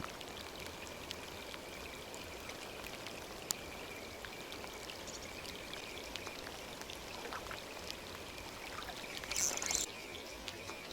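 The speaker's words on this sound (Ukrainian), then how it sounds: "Коли той дощ закінчиться вже" Rain patters steadily on a surface beside the Dniester River, a soft continuous drizzle with scattered sharper drops and a brief louder splash near the end.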